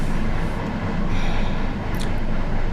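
A train rolls past on a railway track right beside the spot, a loud continuous rumble and rattle of wagons with a faint high squeal near the end, no voices.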